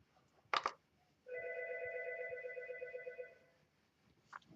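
An Algo 8180 SIP ringer set to low volume gives one quiet, steady electronic ring lasting about two seconds, with brief soft knocks before and after in a quiet room.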